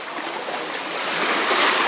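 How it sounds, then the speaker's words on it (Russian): Sea waves wash onto Meganom beach near Sudak, a loud, close, hissing rush of surf that swells steadily toward the end, with no voices. "Сейчас волна пройдет вот это."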